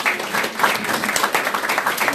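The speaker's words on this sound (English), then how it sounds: "how about we give her a round of applause?" Applause from an audience after a storytelling talk, a steady dense patter of many hands clapping at close range, with faint voices mixed in.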